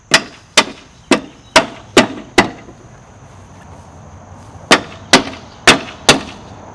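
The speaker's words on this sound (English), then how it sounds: "the Cooper bangs the hoop down onto these things, tighter and tighter" A cooper drives an iron hoop down onto a wooden barrel, sounding as two quick runs of sharp, loud wooden bangs at an even rhythm, about five strikes each, separated by a short pause.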